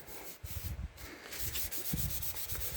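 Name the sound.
rubbing down magazine paper pieces onto a junk-mail journal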